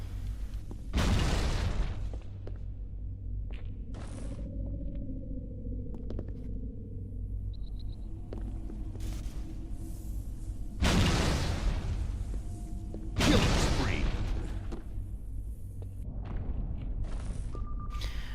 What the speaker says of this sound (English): there's a bunch of little lines on car 2 here that are better defined by the grenade explosions